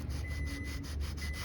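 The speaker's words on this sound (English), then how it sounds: "just kept molding and molding and molding it and sanding it flush with this wood here" Rapid back-and-forth rubbing of a 400 grit sandpaper disc held by hand over wood filler on a dresser, about eight quick close strokes in a steady rhythm, with no talking.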